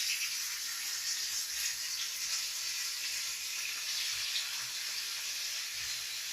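Beef pieces frying in oil in a pot give a steady, even hiss and sizzle that runs throughout at moderate level, with faint clinks beneath.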